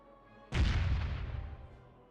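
A single heavy boom from a ship's cannon broadside in the pirate video game Caribbean Legend hits sharply and close, then rolls off into a long, fading rumble.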